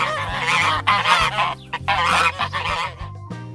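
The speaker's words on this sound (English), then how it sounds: "Goose." A farm goose honks loudly and close by, a series of harsh nasal calls in quick bursts with short pauses between them.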